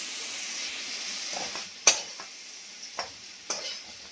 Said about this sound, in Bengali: চিংড়ি ভালো করে ভেজে নিলাম।